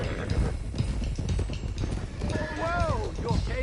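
Horses clip-clop along a trail in the Western video game Red Dead Redemption 2, steady hoofbeats under continuous talk, with a brief whinny-like sound near the end.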